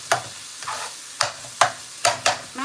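Ground beef is chopped and stirred in a hot skillet, with repeated sharp scraping strikes about every half second over a soft, steady sizzle close by, and no voices.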